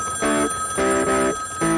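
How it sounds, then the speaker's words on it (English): A telephone rings inside a phone booth near traffic, with three loud bursts of harmonic electronic trilling separated by short pauses and no voices. "You can't just let a phone keep ringing like that."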